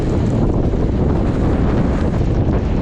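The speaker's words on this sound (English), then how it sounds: "Very windy." Strong, gusting wind buffets the microphone on an exposed mountain walk up Dun Da Ghaoithe on the Isle of Mull, producing a loud, continuous roar heavy in low rumble that persists for the whole stretch without pause and with no voices.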